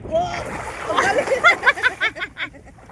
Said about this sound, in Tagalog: Nagbabackflip sa tubig ah